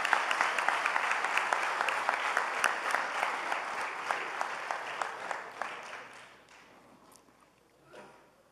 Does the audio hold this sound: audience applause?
yes